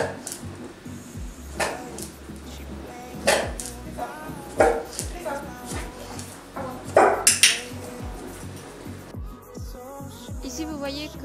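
A dog in trick training barks on cue: several sharp, separate barks spread across the clip between quieter moments, along with light clinks and handling noises nearby.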